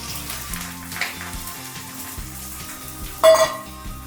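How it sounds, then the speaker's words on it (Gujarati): Onion and cabbage frying in hot oil for veg fried rice give a soft, steady sizzle with a few utensil knocks and one sharp clatter near the end, heard close up with no voices. "ફ્રાઈડ રાઈસ બનાવવા માટે મેં અહીંયા તેલ ગરમ કરી લીધું છે। તેમાં ડુંગળી નાખીશું, કોબી,"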